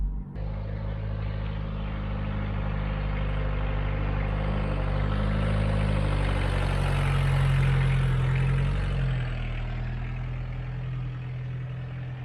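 A 1995 FSO Polonez Caro idles steadily up close, a continuous low engine drone with a stable hum that shifts slightly partway through and holds without talk.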